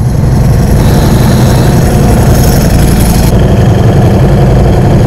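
A Ducati motorcycle engine runs steadily nearby, a loud, continuous idling rumble with a thick low-end throb that holds constant throughout with no voices.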